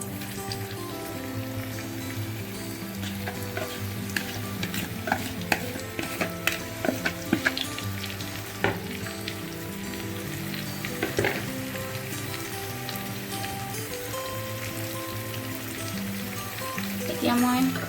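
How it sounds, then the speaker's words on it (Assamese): Chicken meat for pickle sizzles and fries in a hot pan, with intermittent stirring scrapes and pops over a steady, close, continuous crackle. "এতিয়া মই মাংসখিনি লৰাই দিম।"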